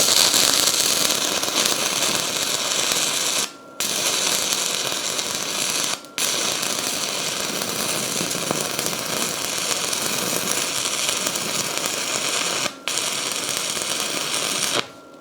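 A stick welding arc from a Harbor Freight Titanium Unlimited 140 burning a 6011 rod, a loud steady crackling buzz that runs continuously with a few brief breaks where the arc drops out.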